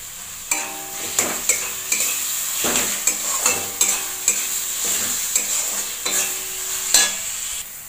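Tomatoes sizzle and fry in a pan of spice paste for a Bengali fish-egg curry, with a steady hiss broken by repeated close scraping stirs of a spoon against the pan.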